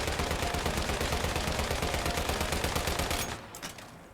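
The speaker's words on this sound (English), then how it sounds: "It also has a little guitar noise when you shoot. Oh, it actually plays the song." Rapid automatic gunfire from a gun skin in the video game Once Human, a dense continuous burst laced with a guitar tone, loud and close, stopping abruptly near the end.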